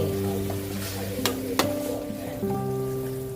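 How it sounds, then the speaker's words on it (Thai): Thin coconut milk being stirred into a pot of river snail curry, a soft bubbling sizzle with a couple of sharp utensil knocks against the pot, close up, no talking. "ใส่หางกะทิลงไปหน่อยค่ะ"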